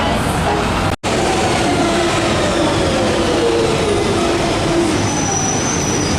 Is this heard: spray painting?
no